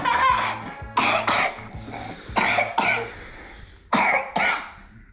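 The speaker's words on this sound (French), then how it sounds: "Et ben ça c'est quand on a 70 ans qu'on tousse comme ça." A child coughs in several separate, harsh fits spread across a few seconds, close and fairly loud, with short quiet gaps between them.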